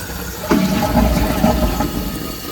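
A toilet flushing after a new flapper has been installed, a loud rushing gush of water that starts abruptly and swirls steadily, close and alone with no talk.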